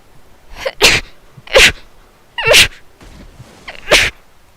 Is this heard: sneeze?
yes